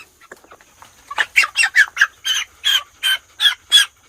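Meat chickens in a front yard cluck in a quick series of about ten close, fairly loud bursts, evenly spaced after a few softer calls, with little else around.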